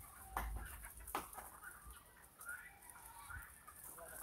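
Chickens cluck faintly on a gamecock farm, with a few short calls scattered over a low, steady background and no one talking.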